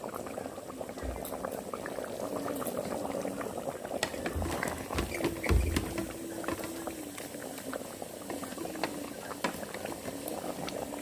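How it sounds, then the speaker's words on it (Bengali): Chicken curry simmering in a rice cooker, a soft continuous bubbling and popping of boiling liquid, faint and steady throughout with small splutters and no talk. "রাইস কুকারে চিকেনের ঝোল রান্না আমার কমপ্লিট।"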